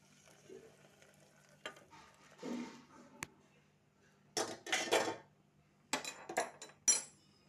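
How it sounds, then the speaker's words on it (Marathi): Hot milk is poured into a pan of sago that has just been sautéed, for a fasting-day coconut kheer. Short, loud bursts of sizzling and bubbling alternate with metal clinks and stirring, with no talk. "यामध्ये टाकू गरम दूध. तर दूध टाकतो आपण."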